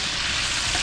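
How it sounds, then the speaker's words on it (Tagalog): Garlic and onion sautéing in oil in a big cooking pan, a steady dense sizzle and crackle that stays close and loud throughout with no pauses. "gigisa na natin yung bawang sibuyas"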